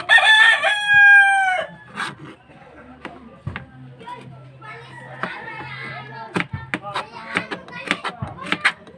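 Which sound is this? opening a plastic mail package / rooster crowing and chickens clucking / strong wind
rooster crowing and chickens clucking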